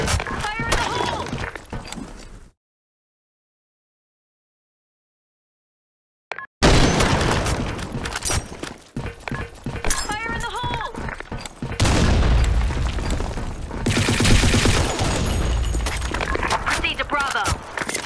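Grenade blasts and gunfire in the shooter game Blackshot come as loud, dense bursts of booms and rattling shots around a brief silent gap, with voices calling out over the action.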